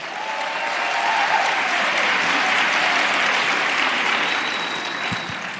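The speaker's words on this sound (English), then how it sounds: "That's worth a round of applause also." A crowd applauds during a mayor's remarks introducing a new schools chancellor, the clapping sustained and even for several seconds before tapering away at the end.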